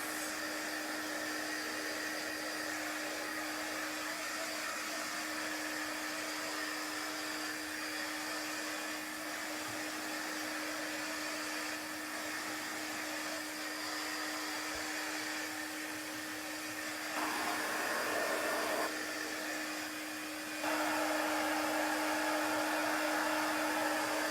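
A hair dryer blowing continuously over wet chalk paste on a craft surface, a steady whirring hum with a constant motor tone that grows slightly louder near the end.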